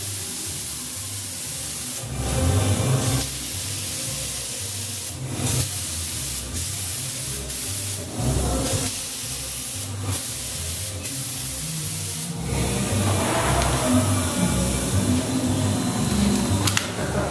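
A steady, loud spray hiss runs throughout in long continuous bursts with short pauses between passes.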